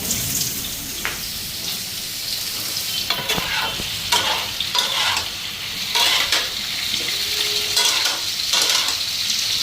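Food fries noisily in a hot pan, a dense crackling sizzle punctuated by repeated scraping stirs and a few wet spatters, close and continuous for the whole stretch with no speech.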